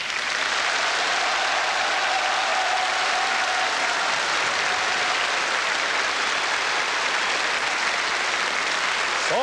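Studio audience at a 1980s New Year's Eve TV folk music show applauding, a continuous loud, even roar of many hands clapping throughout.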